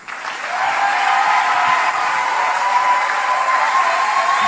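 A church congregation applauds and cheers in a large hall, a thick, continuous wash of clapping that swells in and holds loudly to the end, with a faint sustained musical tone underneath.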